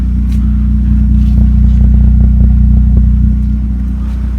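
A car engine fitted with a K&N filter, straight-through header and straight-through exhaust, suspected of a worn thrust bearing and clutch, holds a loud, deep, throbbing idle-to-rev drone close by, with faint metallic clatter over it, easing slightly near the end.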